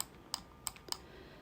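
Three crisp computer keyboard keystrokes, close and fairly quiet, spaced unevenly against a faint steady background, with no talking.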